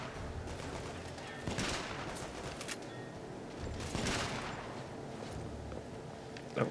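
Video game The Order 1886: pistol shots and other gunfire crack out in a few separated bursts over a constant background din of battle; no one speaks.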